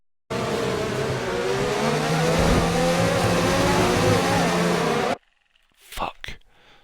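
F1 2019 race cars in a video game: a loud, high-revving engine wail with shifting pitch through gear changes during an overtake, running for about five seconds before cutting off abruptly, followed by brief faint clatter.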